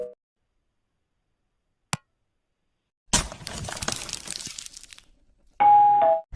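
A notification bell sound effect rings out in a short, bright sustained tone near the end, after a sudden burst of crashing, shattering noise and an isolated click, with silence between them.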